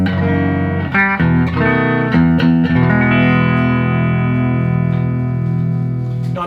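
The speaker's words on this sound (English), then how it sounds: "here is a 70s, a classic 1971 guitar through a clean amplifier, just the bridge pickup" Clean electric guitar chords from a 1971 Telecaster on its bridge pickup through a clean amplifier ring out loud and bright with a slight twang, strummed and sustained with gentle reverb and no voices.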